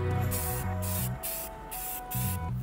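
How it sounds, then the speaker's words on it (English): Plastic spray paint hisses from an aerosol can onto a PVC pipe laptop stand in three loud, close bursts, each lasting about half a second to a second, with brief pauses between them and no talk. "we're going to spray paint it with some plastic spray paint"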